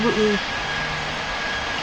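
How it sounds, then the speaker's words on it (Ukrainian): An airplane engine in a flight game drones steadily and loudly throughout, with a brief tonal sound at the start. "Та чого у мене літак так швидко летить?"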